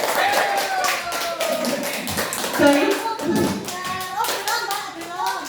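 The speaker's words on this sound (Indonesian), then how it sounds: "Kasih aplaus buat kita." Applause from a gathered audience of teachers at a school training presentation, many hands clapping steadily and densely for several seconds, with voices murmuring underneath.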